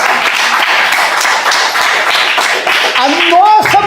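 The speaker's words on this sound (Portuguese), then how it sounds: "palmas por Jesus" A church congregation claps together in praise, a loud dense patter filling the room, with a voice rising over the clapping near the end.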